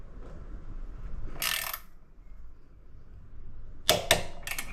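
Torque wrench tightening the bolts of an SW-Motech crash bar on a CF Moto 450 MT, several short sharp ratchet clicks after a quiet pause, close by with no talk.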